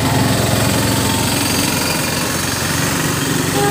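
Hero Optima electric scooter straining at full throttle up a flyover, a steady loud drone of motor and wind noise that holds evenly throughout with no pauses.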